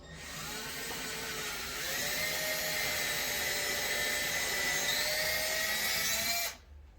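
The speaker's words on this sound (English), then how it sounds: "What I like to do is I'll pre-drill a hole." A steady power drill whines continuously for several seconds at a constant pitch, drilling a pilot hole in wood, then cuts off abruptly near the end.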